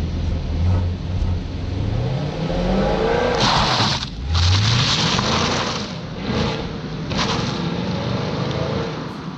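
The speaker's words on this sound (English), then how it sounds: "But here is that acceleration test, a quick view from outside of the Camaro." A 2020 Chevrolet Camaro SS roars through a hard acceleration heard from outside, its engine pitch climbing through several gear changes at loud, close range.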